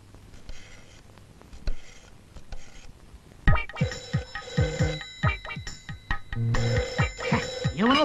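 A telephone rings repeatedly in bursts, loud and close, with a bright bell-like trill over a busy indoor background.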